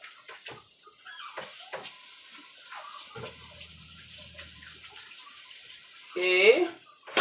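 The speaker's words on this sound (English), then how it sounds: "I'm going to wash my hands." A kitchen tap runs while hands are washed, a soft steady stream of water heard close with scattered clinks and a brief louder splash near the end.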